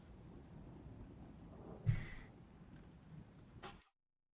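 Low, distant rumbles of thunder over a soft, steady wash of rain in a video game, fairly faint, with one brief swell near the middle and a small burst just before the sound cuts off.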